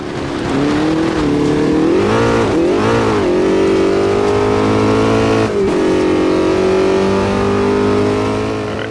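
A race car engine from the video game Automobilista 2 drones loud and steady through a lap, pitch climbing and dipping with throttle and gear changes and one sharp dip near the middle, alone without talk.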